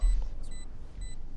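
A phone alert beeps during a game stream: thin, steady tones sound in two short spaced pairs, faint and close, before a louder rushing burst cuts in at the end.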